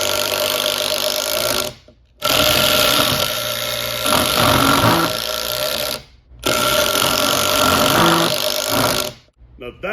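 A power drill on speed 3 drives a screw with a Kobalt XTR Phillips bit, giving loud, whirring bursts of a few seconds each, split by short pauses, close by and buzzing with a motor hum.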